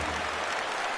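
A large crowd of over 39,000 at a baseball stadium, standing and applauding. The dense cheering and clapping form a steady roar for about a second.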